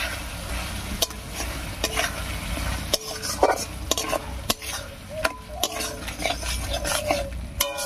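Cashew and ground nut paste fry with potatoes and spices in oil, a close crackling sizzle broken by sharp spatula knocks and scrapes against the pan at irregular intervals.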